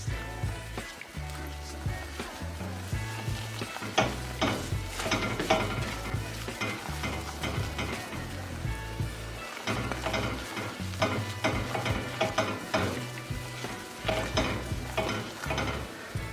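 A lumpy-prone sauce is stirred in a pan over lowered heat for English-style sausage rolls, producing steady sizzling with rhythmic scraping and clinks of a utensil against metal, close and continuous.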